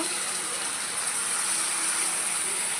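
Water poured into a pan of potatoes and spices while cooking a fish curry, a steady close rushing gush that runs unbroken throughout.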